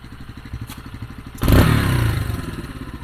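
Boxer-engine motorcycle fitted with a homemade straight-through exhaust built from scrap: a steady, throbbing idle close by, then a sudden loud blip of the throttle that roars and slowly settles back.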